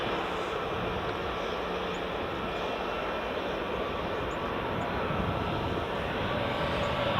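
A Loganair Embraer E145 jet rolls out at Edinburgh Airport after landing, a steady, broad engine roar with reverse-thrust rumble heard from a distance, unbroken and without voices.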